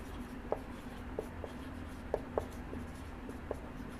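Chalk or marker strokes on a classroom board during a physics lesson, a handful of short, sparse taps and scratches over a quiet room hum, with no talking.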